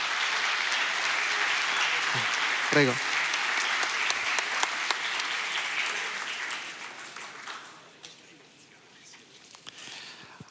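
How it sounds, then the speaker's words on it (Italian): An audience at a regional memorial day ceremony in Italy claps in sustained, dense applause, with a brief spoken word near the start, before the clapping thins out and trails off. "Accogliamoli con un forte applauso."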